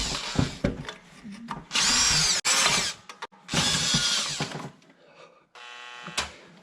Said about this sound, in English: So we're gonna drill another hole into the motor here.